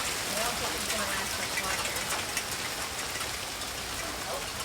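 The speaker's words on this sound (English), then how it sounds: "pouring rain, but it's sunny right there." Pouring rain falls outdoors in sunshine near a hammock, a dense, steady hiss of drops that carries on throughout.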